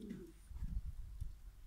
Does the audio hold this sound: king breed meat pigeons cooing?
yes